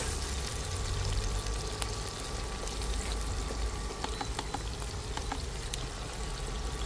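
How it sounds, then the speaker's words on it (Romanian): Onion fries in a pan while a chicken and vegetable stew is being made, giving a steady, close hiss and sizzle with scattered faint ticks and pops and no talking. "Prăjim puțin ceapa."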